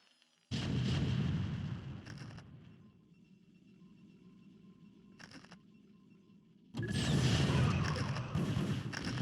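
Tanks firing in a real-time strategy game battle: a loud burst of booming fire at the start, a quieter rumbling stretch with a few short pops, then another heavy sustained barrage near the end.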